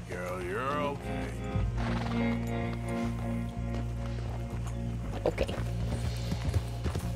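A horse in the video game Red Dead Redemption 2 whinnies at the start, then snorts and shifts with soft hoof sounds over a steady low game ambience, while a person briefly speaks.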